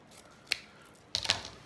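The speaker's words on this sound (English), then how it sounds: "And then we're going to cut these right in half." Scissors snip twice through a craft piece while making a country lantern decoration, a lone sharp cut followed about half a second later by a quick cluster of close clicking snips, with no talking.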